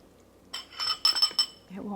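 A metal spoon scoops soup from a pot and clinks against the rim a few times in quick, close, bright taps, followed by a low rumble at the end.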